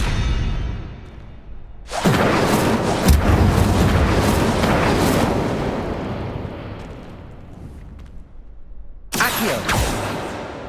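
Incendio fire spell cast in the Hogwarts video game: a loud booming whoosh of flame that swells, roars for several seconds and fades, then a second burst erupts near the end.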